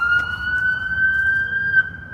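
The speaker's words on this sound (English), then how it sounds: "Oh, it's an ambulance coming this way." An ambulance siren wails steadily on a city street in Toronto, holding a high sustained tone at moderate distance over low traffic rumble, with no talk during it.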